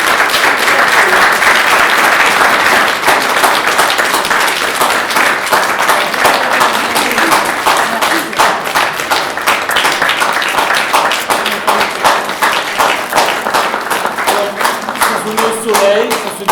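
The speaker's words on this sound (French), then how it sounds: "je pense qu'elle mérite nos applaudissements pour son hospitalité" Sustained audience applause for a departing librarian, a dense, steady wash of clapping that stays loud throughout, with some voices faintly mixed in beneath it.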